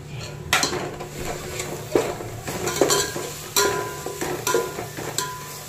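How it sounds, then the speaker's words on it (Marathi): Tomatoes are stirred into fried onion and coconut in a pan while cooking misal, with steady sizzling and repeated scraping clinks of a spoon against the metal, close and alone. "मस्त परतून घ्यायचं"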